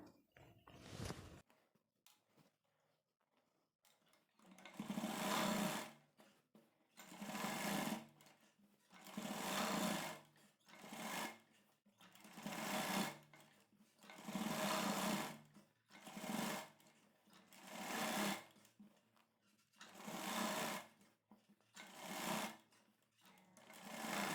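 A sewing machine stitches a straight seam on a plain blouse in repeated bursts of fast whirring, about ten runs with short pauses between them, close and alone.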